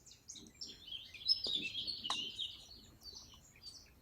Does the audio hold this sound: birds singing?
yes